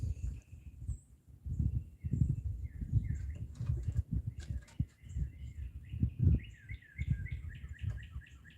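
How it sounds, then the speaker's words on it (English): Birds chirp and sing by a lake, repeated bright tweets and short trilled phrases in the middle distance, over a low rustling and thumping background. "Well, them birds are going crazy,"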